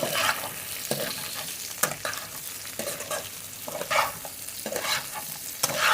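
Three medium capsicums stir-fried in a pan over high-to-medium heat for fried rice and chilli chicken: a steady sizzle broken by repeated scraping stir strokes every second or so, close and fairly loud, with no talking.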